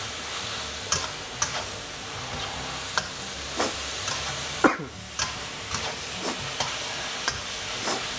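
Beef stir-fried with mala chili in a hot pan, a steady sizzle broken by regular scraping strokes and sharp ticks of a utensil against the pan, close and fairly loud with no talk.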